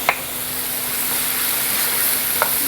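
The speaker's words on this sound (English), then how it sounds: "I'm going to stir it in" Chopped small tomatoes being stirred into a hot frying pan, a steady soft sizzle throughout with a couple of faint clicks of the utensil against the pan.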